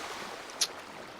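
A vehicle plunges into water in GTA Online, giving one brief, sharp splash over a steady bed of rushing water and wind.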